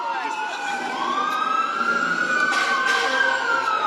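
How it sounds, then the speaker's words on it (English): Emergency vehicle sirens wail steadily at a street protest against immigration raids in Los Angeles, a rising and falling tone that stays loud and continuous throughout, with crowd noise underneath. "Yeah, sirens."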